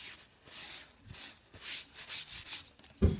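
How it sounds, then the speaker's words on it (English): Wax is rubbed over a canvas surface in soft, repeated back-and-forth strokes, faint and close, with a small knock near the end. "you just take this and you rub it all over your surface"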